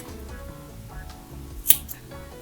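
Scissors cut through crochet yarn in a single crisp snip over quiet background noise.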